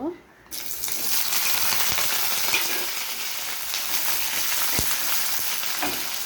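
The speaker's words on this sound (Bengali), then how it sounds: "এবার আমি পেঁয়াজ দিয়ে দেব।" Onions hitting hot oil in a pan set off a sudden, loud, continuous sizzle that holds steady throughout, with occasional faint clinks of stirring.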